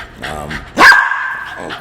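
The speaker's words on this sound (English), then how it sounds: "Hold on, don't bark." A dog gives a single loud, close bark that trails into a short whine, with a voice speaking faintly before it.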